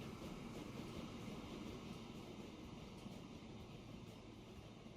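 A train running in the railway simulation game Transport Fever 2, a steady, dense rumble with a constant mid-level drone that holds unchanged from start to finish, with no voices over it.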